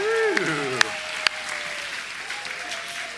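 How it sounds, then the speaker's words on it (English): An audience claps steadily for a few seconds at a church service, with a couple of sharper claps standing out and a voice briefly audible. "Can we give them a round of applause?"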